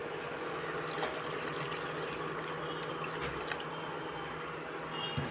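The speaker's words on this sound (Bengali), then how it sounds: "ওর মধ্যে আমি জল দিয়ে দেবো।" Water is poured into a pan of fried, spiced watermelon rind with potato, producing a continuous, even hiss and gentle liquid wash with a few faint clinks.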